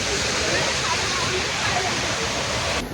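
Jibhi waterfall rushes in a dense, steady roar of falling water, loud and constant throughout, close by.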